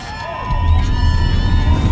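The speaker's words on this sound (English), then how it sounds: "Let's give them a round of applause." An audience at a DA political party manifesto launch breaks into loud cheering and shouting after a quiet start, a dense crowd roar sustained to the end.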